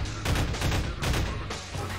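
Automatic rifle fire in Half-Life 2: Episode Two: three loud, close bursts of rapid shots in quick succession, separated by short gaps. No speech.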